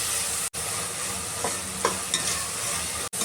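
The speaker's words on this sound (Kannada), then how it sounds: "ಇವಾಗ ಒಂದು ಸ್ವಲ್ಪ ಫ್ರೈ ಮಾಡ್ತಾಯಿದ್ದೀನಿ" Chopped tomato with turmeric and salt fries in a pan, a continuous close sizzle with a few soft stirring scrapes and two brief cuts in the sound.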